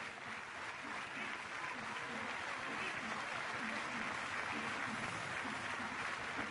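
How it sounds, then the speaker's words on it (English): A beach soccer crowd gives steady, sympathetic applause, a faint wash of clapping heard from a distance beneath a commentator's voice. "Sympathetic applause."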